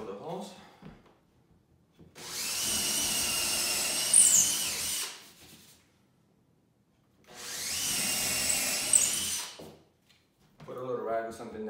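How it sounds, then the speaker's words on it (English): Two sustained bursts of a power drill whirring pilot holes into a wall, each a few seconds long, separated by quiet pauses with faint speech. "I'm gonna drill the holes."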